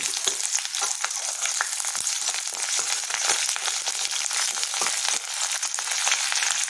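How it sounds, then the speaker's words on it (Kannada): Chopped garlic and green chillies frying in hot oil make a steady, close crackling sizzle, with dense spitting pops throughout and no voices. "ಬೆಳ್ಳುಳ್ಳಿ ಹೆಚ್ಚಿರೋದನ್ನು ಹಾಕ್ಕೊಳ್ತಾ ಇದ್ದೀನಿ ಅದಕ್ಕೆ ಹಸಿಮೆಣಸಿನಕಾಯಿ ಹಾಕ್ಕೊಡ್ತಾ ಇದ್ದೀನಿ"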